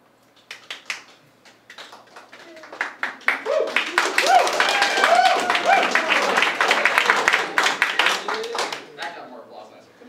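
Open mic night audience applauding a magic trick: scattered claps build into a full round of clapping with cheering voices, then taper off to a few isolated claps.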